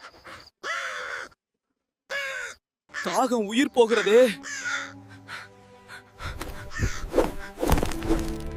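A thirsty crow wandering a forest in an AI-generated story gives a few harsh caws midway, mixed in among narration and other voices, followed by a busy jumble of thuds and background sound.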